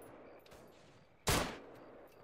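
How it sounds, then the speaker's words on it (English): A single bazooka shot fired in a combat video game at an enemy crew-served weapon, one sudden loud blast that fades quickly, standing out against faint background battle noise. "I got this with my bazooka"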